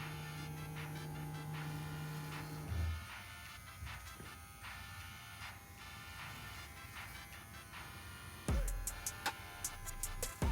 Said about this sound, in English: Clipper over comb.